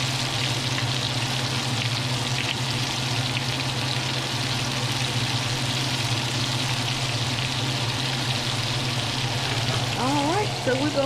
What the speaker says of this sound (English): So we're gonna let that fry.